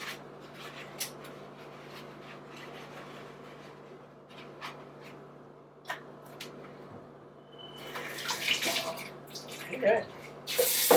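Water runs from a tap onto a wad of paper towel in a quiet setting. The flow is soft at first, then grows louder and more splashy toward the end, with a few brief knocks along the way.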